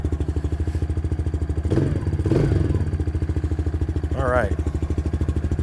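A brand-new Kayo Bull 125 EFI kids ATV engine runs at a steady, pulsing idle close by, with a few clattering thumps and a short voice over the chugging.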